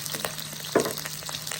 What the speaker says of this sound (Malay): Okay, kita goreng udang ni.